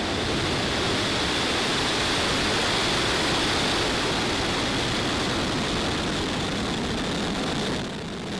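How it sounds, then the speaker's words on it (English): Falcon 9 rocket ignition and liftoff for a Starlink launch: a sustained, loud, broadband roar holding steady throughout, easing slightly at the very end. "Ignition and liftoff."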